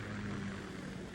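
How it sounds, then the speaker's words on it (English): Kamov KA-60 Kasatka helicopter in the Metal Gear Solid 2 video game, heard as a brief, steady low rotor drone with a droning engine tone and no voices. "Kasatka? Kamov chopper, right?"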